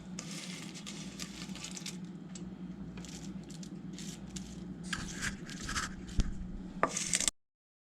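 A spoon scrapes and pats cornflakes onto a casserole side dish for Thanksgiving, a steady soft crunching and scraping with a few sharper clinks near the end before it stops abruptly.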